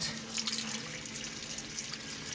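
An electric pump circulates water through a basket holding ribeye steaks for sous vide cooking, giving a steady, close rushing and bubbling flow with a faint constant hum beneath it.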